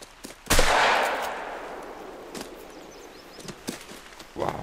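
A single loud shotgun blast fires in the hunting game theHunter: Call of the Wild, with a long rolling echo fading away, then soft footstep-like rustles and light clicks.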